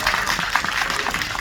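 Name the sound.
audience applause at a film screening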